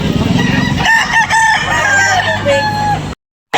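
Rooster, one of the Buyogon, Pilsen Black or Kelso line gamefowl on a backyard farm, crowing loudly and close up in a long rising-and-falling call, with other fowl clucking faintly behind, then a sudden cut to silence near the end.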